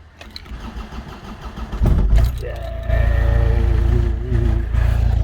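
A car engine cranks briefly on a freshly charged battery, catches with a loud burst and settles into a steady, smooth idle close by, with a slight rise in revs partway through.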